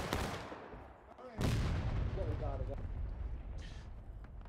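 Musket volleys crack in the War of Rights Civil War video game, a sharp burst at the start and a louder one after a lull, then rolling echoes with scattered shots and voices.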